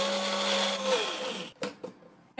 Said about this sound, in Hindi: तो अब इसे हम ग्राइंड कर लेते हैं।